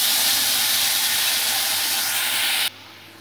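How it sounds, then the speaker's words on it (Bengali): Tamarind chutney hits fried chillies in a hot pan with a loud, close, steady sizzling hiss that holds evenly and then drops off abruptly to a much quieter background. "লঙ্কাগুলোর ভাজা হয়ে গেলে, এরকম কালার শুরু হয়ে গেলে, আমি যে তেঁতুলের চাটনিটা রেডি করে রেখেছিলাম সেটা দিয়ে দিচ্ছি।"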